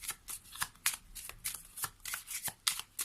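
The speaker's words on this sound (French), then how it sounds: "on va prendre quelques cartes du Lenormand avant de passer à la carte des anges de l'amour" Lenormand fortune-telling cards being shuffled by hand, a quick series of crisp riffling bursts repeating at a steady rhythm, close and clear with no talking.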